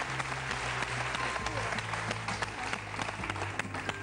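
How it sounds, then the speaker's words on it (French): Studio audience applause on a French-language quiz show after a contestant scores a point, steady dense clapping filling the whole stretch at an even level. "Applaudissements pour Dima, s'il vous plaît."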